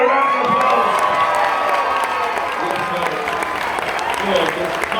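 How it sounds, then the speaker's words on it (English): A crowd applauds and cheers, with whoops and shouts over steady clapping after a man sings at a karaoke-style gathering, loud and close, with voices mixed into the noise throughout. "Give me a round of applause"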